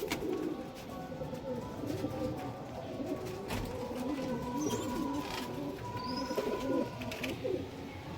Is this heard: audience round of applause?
no